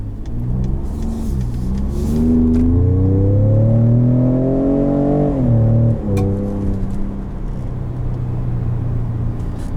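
A 2019 Ford F-150 Raptor pickup accelerating hard in normal drive mode, its engine rising in pitch through a long pull, dipping at a gear shift, then settling into a steady drone heard from inside the cab.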